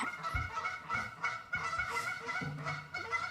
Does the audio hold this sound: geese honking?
yes